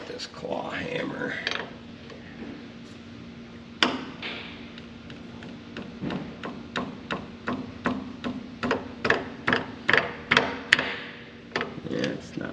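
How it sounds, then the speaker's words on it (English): A claw hammer strikes repeatedly at an engine seal, a long run of sharp, fairly evenly spaced metallic taps that grow more regular over time, with a faint hum and some talk early on. "this claw hammer"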